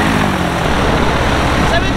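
Loud, steady drone of a light aircraft engine idling at about 1900 RPM just after its left and right carburetors were balanced, a constant close-up roar throughout.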